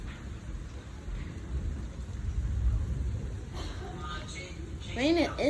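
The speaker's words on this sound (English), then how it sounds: "Ooh, got some more thunder." Thunder rolls low and heavy through a rainstorm by a harbor, a long rumble that swells and fades over steady rain, with people talking nearby.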